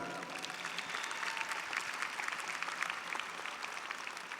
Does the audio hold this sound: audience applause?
yes